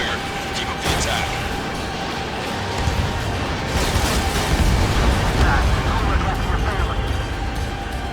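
Dense, continuous booming explosions and rumbling blasts from the video game Ace Combat 7 fill the scene, loud and layered, with a voice briefly talking over them.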